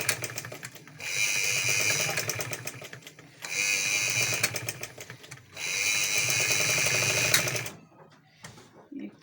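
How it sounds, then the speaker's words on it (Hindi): A sewing machine stitches folded shirt fabric in three bursts of rapid, steady mechanical whirring, with brief pauses between runs. It sounds close and fairly quiet. "अब इन पे हम सिलाई लगा देंगे ताकि हमारे लिए मुश्किल ना हो।"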